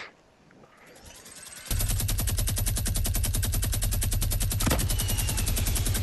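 A heavy machine gun in Fortnite fires a long, unbroken rapid burst, loud and close, with evenly spaced shots hammering for several seconds after a quiet start.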